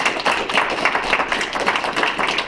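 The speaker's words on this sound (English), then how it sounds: "I think they deserve a round of applause" A small room of people clapping for city workers at a Taylorville city council meeting, a short patter of scattered hands at steady moderate volume.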